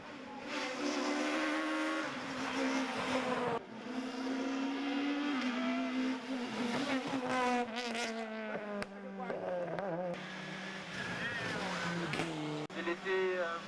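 Rally cars race flat out up a hill climb in Guadeloupe, engines screaming at high revs with steady rising and falling tones and gear changes, loud and close throughout, with commentary running over the top.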